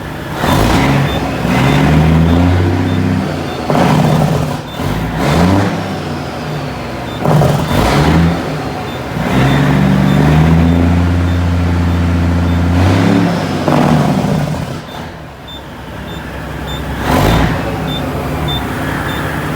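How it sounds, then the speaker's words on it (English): A semi truck engine revs repeatedly through straight-stack exhaust, loud and close, with deep rising and falling bursts separated by brief idle pauses. "Give you guys a little sound of the exhaust here."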